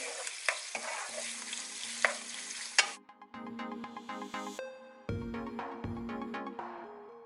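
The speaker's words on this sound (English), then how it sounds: "Make sure you stir them while they are cooking" Shrimp being stirred as they fry in a pan for Thai-Indonesian nasi goreng, soft sizzling with scraping strokes that drop away midway, then sparse utensil clinks and a faint tonal hum, quiet and close.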